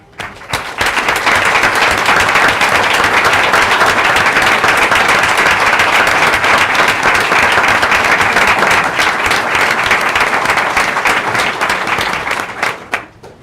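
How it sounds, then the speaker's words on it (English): An audience at a school district board of trustees meeting applauds first responders, a loud, sustained round of clapping from many people that swells quickly, holds steady for about twelve seconds, then tapers off. "please stand, and we'd like to honor you with a round of applause"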